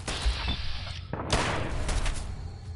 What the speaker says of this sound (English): Shoot him! Shoot them all!